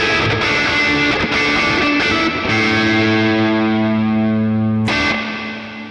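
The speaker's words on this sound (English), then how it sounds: "We've got a hall reverb." Distorted electric guitar chords through a Boss Katana MkII amp's hall reverb ring out and sustain into a long, washy reverb tail, with a sharp pick attack near the end.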